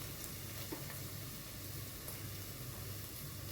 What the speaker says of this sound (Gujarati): આપણે એની જે કચાશ નીકળી જાય ત્યાં સુધી ડુંગળી સાથે સાતળવાની છે